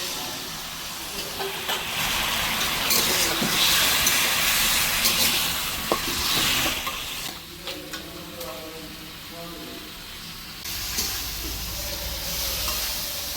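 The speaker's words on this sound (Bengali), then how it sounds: "এখন মশলার ভিতর আলুগুলি দিয়ে আমি আলুগুলি একটু ভেজে নেব" Potatoes frying in spice masala in a pan, a close hiss and sizzle with intermittent stirring scrapes and clinks, the frying noise dipping midway before rising again.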